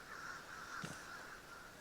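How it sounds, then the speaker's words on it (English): A single hoarse crow caw from the video game Vigor, short and faint, sounding at a distance over a quiet ambient background hum. "But there are crows at that exit in front of me."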